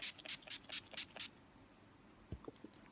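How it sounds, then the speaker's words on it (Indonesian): NYX Matte Finish setting spray mists onto a face in about six quick, close bursts, followed by faint rubbing sounds. "Sekarang kita semprotkan ke wajah"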